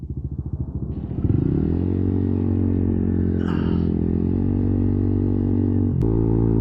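A Kymco RTS 135 scooter with an ISG integrated starter-generator turns over and fires up smoothly, then settles into a steady, close idle with a brief blip partway through.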